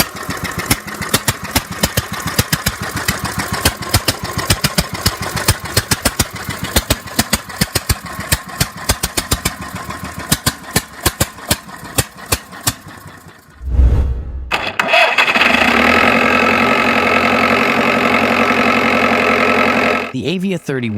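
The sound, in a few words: Deutz diesel tractor engine motorcycle starting and idling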